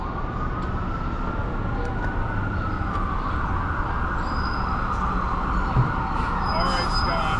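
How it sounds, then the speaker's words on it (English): A wailing ambulance siren rises and falls steadily as it approaches, over a constant background rumble of traffic, fairly loud and continuous throughout. "that's the ambulance actually coming right now"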